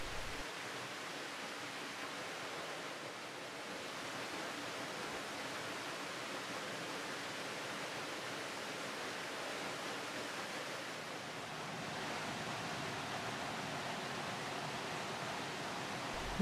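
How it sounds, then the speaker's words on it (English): An outdoor waterfall along a hiking path gives a steady, even hiss of falling water that holds unbroken throughout. "The waterfall was gorgeous."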